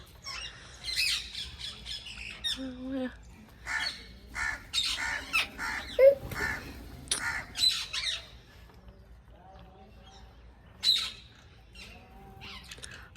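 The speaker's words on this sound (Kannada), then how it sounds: "ಪಾರಿವಾಳ, ಗುಬ್ಬಚ್ಚಿ, ಗಿಳಿ, ಕಾಗೆ" Birds call outside a house in Rajasthan, including pigeons, sparrows, parrots and crows. Harsh squawks and caws come in irregular bursts, some loud and close, over a quiet background.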